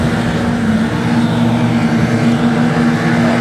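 Junior sedan race cars, among them a Datsun Sunny, roar together in a heat at Kingaroy Speedway, a dirt track. The engine noise is loud and continuous and seems to pass close by, with no voices over it.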